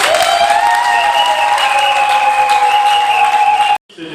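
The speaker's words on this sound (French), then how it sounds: "Nous acclamons pour Jésus." Congregation at a church wedding applauding and cheering for Jesus, a dense, steady wash of clapping with a sustained tonal note running beneath it, cutting off abruptly near the end.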